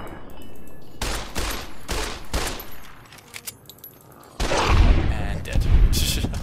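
Video game gunfire in bursts, with loud rapid shots and booming blasts in clustered volleys, the heaviest fire near the end, and a voice speaking briefly between them.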